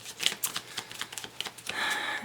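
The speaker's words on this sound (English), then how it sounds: "I want a good shuffle." Tarot cards being shuffled close by: quick, quiet riffling and flicking strokes, ending in a softer sliding rustle.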